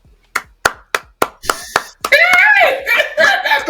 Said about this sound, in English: That's the sarcastic clap.